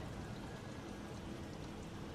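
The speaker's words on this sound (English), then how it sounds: "I just noticed that it's raining." Rain falls outside, a soft continuous hiss of drops that stays even and faint throughout, with no voices heard.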